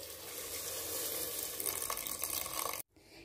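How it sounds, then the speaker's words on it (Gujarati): Water, about two cups, is poured into a pot while making Karnataka-style bonda soup, a soft continuous splashing pour that grows slightly busier before stopping suddenly, followed by near silence. "2 કપ જેટલું પાણી એડ કરીશું।"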